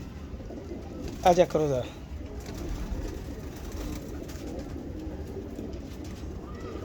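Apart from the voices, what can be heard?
pigeons cooing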